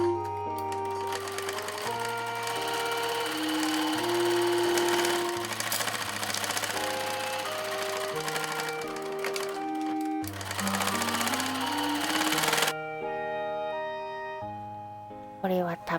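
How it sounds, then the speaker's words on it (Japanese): A sewing machine bastes quilted fabric made from small scraps, running in a fast steady mechanical chatter with brief pauses and changes in speed, close and clear throughout. "本体の裏側に仮縫い"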